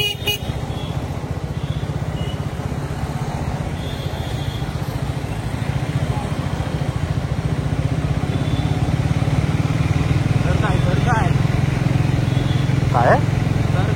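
A motorcycle engine runs steadily during a Sunday group breakfast ride, a constant low drone that swells slightly louder partway through, with a brief horn toot and voices talking over it.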